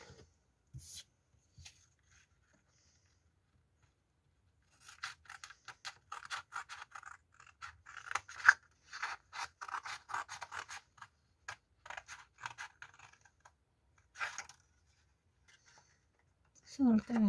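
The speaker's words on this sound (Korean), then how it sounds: "자, 그럼 이걸 잘라 보겠습니다." Scissors snip through paper while a mini cake gift box is cut out of paper, giving a run of quick, close crisp cuts and rustles in short bursts, with a brief voice near the end.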